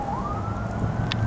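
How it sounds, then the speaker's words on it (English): A wailing siren rises and holds steady in the distance over a constant low traffic rumble in Oro Valley on a cold, windy day. "sirens everywhere."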